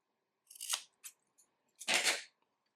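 Scissors snip through yarn while making a faux-macramé braided crochet keychain, giving two crisp, close cuts about a second apart with a light tick between them and no talking.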